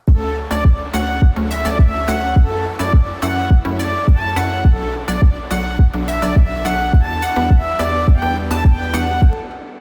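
Plucky tropical house synth chords over a deep, rhythmic bass line made in FL Studio, repeating in a steady upbeat groove, loud and close with no talking.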